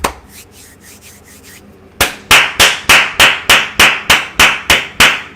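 Hard, emphatic hand claps in the manner of Jason Garrett ring out in a steady run of about ten loud, close strikes after a quieter stretch of lighter tapping.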